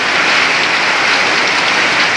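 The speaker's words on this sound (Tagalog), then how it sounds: "grabe ng ulan" Heavy summer rain pours down steadily in a dense, even roar of drops that stays loud and unbroken throughout, with no voices over it.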